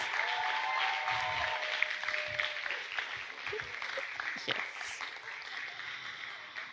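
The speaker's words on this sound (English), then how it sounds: "A round of applause." Audience applause for performers at the opening show of the Kuala Lumpur Youth Literary Arts Festival, a moderate burst of clapping that tapers off gradually while a voice speaks briefly over it.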